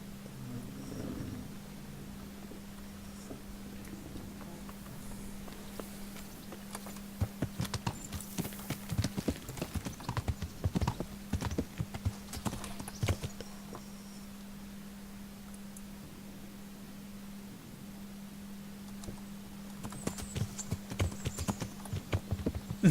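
Horse hooves clip-clop in the medieval game Kingdom Come Deliverance, bursts of quick hoofbeats coming and going over a steady low hum, faint and moderately near, with stretches of quiet between runs.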